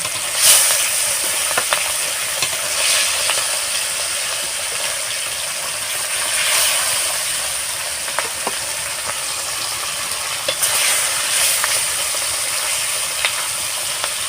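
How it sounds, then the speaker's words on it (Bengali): Catla fish pieces frying in hot oil give a steady, close, loud sizzle with small crackles and pops throughout. "আমার তেলটা গরম হয়ে গিয়েছে এবারে আমি মাছগুলো সব ভেজে নেব"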